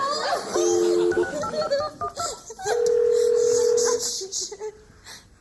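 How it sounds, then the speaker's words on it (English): Touch-tone phone keys being dialed in a TV comedy sketch, short beeps followed by a long steady tone, with laughter and voices around it. "Let's get Rick on the phone"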